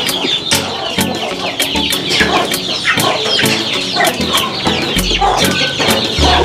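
Chickens cluck steadily in a coop during the rainy season, a dense overlapping chorus of close, loud clucks and squawks with sharp repeated calls throughout.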